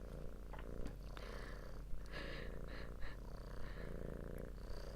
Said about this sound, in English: I expect that she will be purring in the background a lot